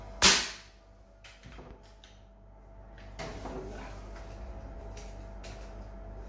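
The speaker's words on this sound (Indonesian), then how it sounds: "Dorong, putar ke atas, tembak." A single sharp shot from a gun fitted with a new single-shot adaptor cracks loudly near the start. Brief mechanical clicks and handling noises follow, then a steady low background hum.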